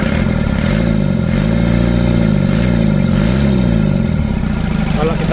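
A motorcycle engine with a newly replaced carburettor plunger revs up and down in loud, wavering swells, close by and continuous throughout.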